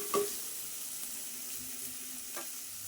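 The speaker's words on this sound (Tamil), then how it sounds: "இப்போது இந்த தக்காளியெல்லாம் நல்லா வதக்கி விட்டுறலாங்க." Tomatoes sautéing in oil in a pan, a faint, steady sizzle close by with a couple of brief stirring clicks, no voices.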